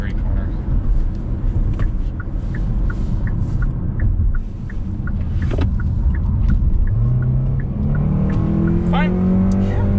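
A 2020 Hyundai Sonata Hybrid rounds a 90-degree corner with a steady, close engine and road rumble, and a rising engine tone swells near the end.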